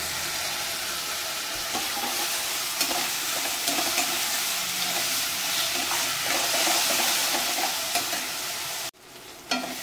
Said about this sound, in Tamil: இப்போ தக்காளியும் நல்லா வதங்கிருச்சு.